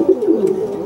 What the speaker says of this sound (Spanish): Esa paloma azul y blanca